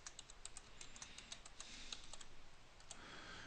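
Someone types a password on a computer keyboard, a quick burst of light, fairly faint key clicks tapped in an uneven rhythm before a short pause and a couple of final presses.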